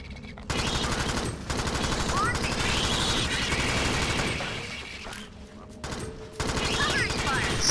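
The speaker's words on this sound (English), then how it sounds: "Only eight rounds for the minigun here, but that should be enough." A minigun fires in the video game Alien Swarm, a loud sustained roar of rapid gunfire with short breaks and dips between bursts, layered with dense game effects.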